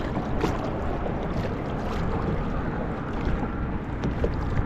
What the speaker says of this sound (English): The wind is almost like it's coming out of the south over here, the way it's kind of whipping around